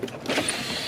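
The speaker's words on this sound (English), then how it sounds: "you have to turn the mirror in." Power side mirror on a 2007–2013 Chevy Silverado folding inward, a short electric motor whir lasting under a second, close and fairly quiet, with no talking.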